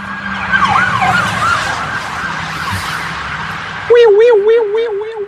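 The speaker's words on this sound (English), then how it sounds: "Wasn't the last set of sirens going that way?" Wailing sirens pass through busy traffic noise, with an earlier warbling siren that fades before a loud, close wailing siren rises sharply near the end.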